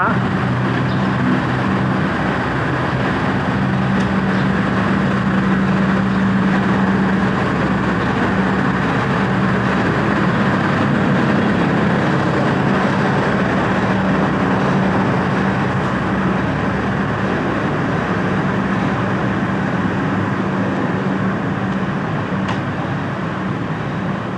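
A diesel passenger train rolls from Wongwian Yai toward Samut Sakhon, with a steady loud engine drone and wheel rumble filling the carriage throughout, a low hum holding under broadband rattle.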